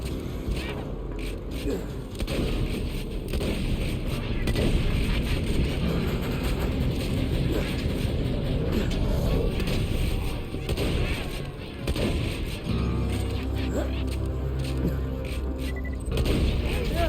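Shotgun blasts in Borderlands 2 thunder as dense, continuous gunfire and booms with heavy low-end rumble, alongside in-game mechanical clatter and scattered voices throughout the fight.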